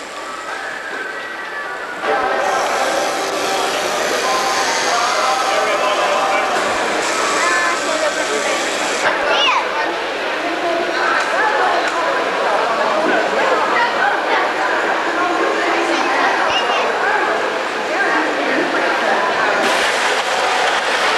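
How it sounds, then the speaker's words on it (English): Model locomotives run on a club logging layout at the Matamata Club, their rumbling, clattering movement continuous and close. A busy hall with chatter from onlookers surrounds them, and a dog barks faintly. "Quick look at some of the variety of locos on the Matamata Club's logging layout."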